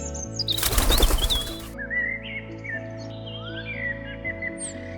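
Birds chirp and tweet in short, bright morning calls after a burst of flapping wings nearby, with a steady hum underneath, in a mountain meadow at Qaqlasht, Booni, Pakistan.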